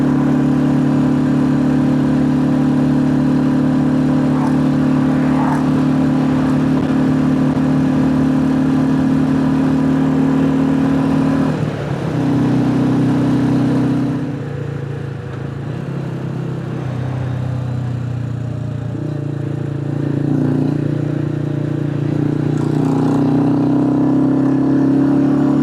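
A Royal Enfield Classic 350 single-cylinder engine labours steadily up a long hill climb on a Scottish road, a loud, continuous throbbing drone that dips and shifts in pitch midway before settling again.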